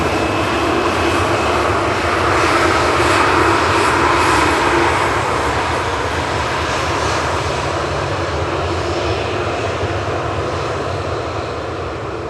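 A Ryanair jet airliner from Santander passes at Manchester Airport, engine roar loud and steady before slowly fading, with no voices over it.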